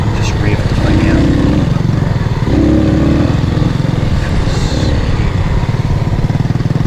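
A motorcycle engine labouring and revving in too high a gear while riding in Cambodia, a loud, close, steady drone with rising surges, and voices talking over it.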